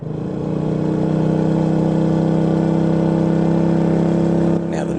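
A Royal Enfield Meteor 350 motorcycle engine runs at a steady idle with a deep, even thump, close and loud for several seconds before cutting off near the end.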